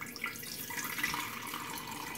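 Fresh lemon and lime juice is poured into a container in a home kitchen, a soft continuous liquid trickle and splash, faint and steady, with no talking.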